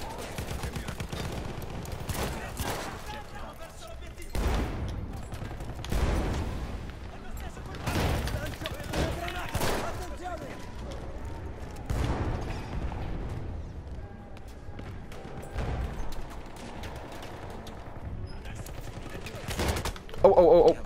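Gunfire in a first-person shooter game, an MP18 among the weapons, with repeated bursts and single shots crackling throughout alongside booms and mechanical clatter. Voices talk over the shooting.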